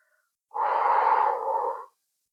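A single deep inhale during a chest-mobility breathing exercise, a smooth airy rush lasting just over a second, close and clear with silence before and after.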